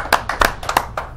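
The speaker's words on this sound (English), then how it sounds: "Let's get a round of applause for Valerie." Applause from a small studio audience at a local comedy talk-show taping: a handful of separate, fairly loud claps in an uneven rhythm over about a second, with no voices.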